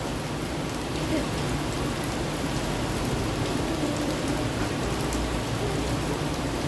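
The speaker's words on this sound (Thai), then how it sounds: "ฝนตกพี่น้อง" Steady rain pours down at a beach camp on Orange Beach, a dense, even hiss of drops on surfaces that holds constant without letting up.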